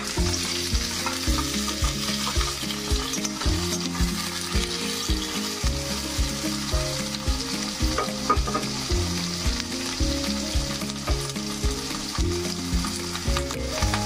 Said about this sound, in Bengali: তার জন্য পেঁয়াজ ভেজে নিচ্ছি